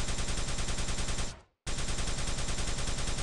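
Rapid plasma gun fire in Quake 3 DeFRaG, a fast even stream of shots running continuously, cutting out briefly for a split second before resuming at the same loud, steady rate.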